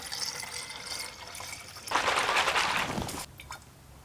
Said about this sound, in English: so I'm gonna put some water in it first